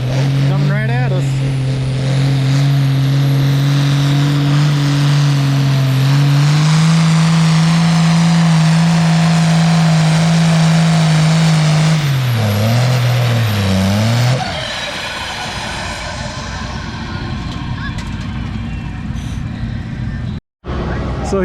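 Pulling tractor at a fall tractor pull, a loud droning engine holding a steady high rev and then surging and wavering as it charges down the track, fading into crowd noise with an announcer talking over it.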